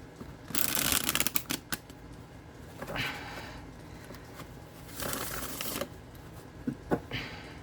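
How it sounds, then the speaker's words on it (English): A tarot card deck with multicolor edging is shuffled by hand, giving crisp riffling bursts of cards separated by quieter pauses, close up and with no voices. "I love how this thing shuffles."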